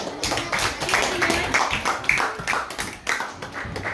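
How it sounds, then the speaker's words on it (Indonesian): Elementary school children clapping for a class group after a religion lesson presentation, uneven close claps from a small group with voices mixed in. "Tepuk tangan untuk kelompok 3."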